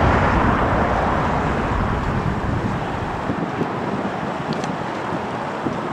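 Gusty wind buffets the microphone in a low, rumbling rush outside Los Angeles International Airport, easing slightly toward the end, with faint traffic noise behind.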